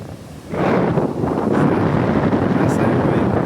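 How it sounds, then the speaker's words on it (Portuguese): Strong wind blows hard across a rocky sea shore during fishing, roaring broadly and buffeting the microphone, with surf rumbling underneath; it rises sharply after a brief quieter start and stays loud. "muito vento"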